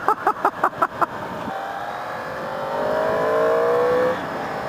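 A 2015 Yamaha R1 sportbike engine revs while riding: a few quick throttle blips, then a rising, whining pull that swells louder before easing off, heard over wind rush.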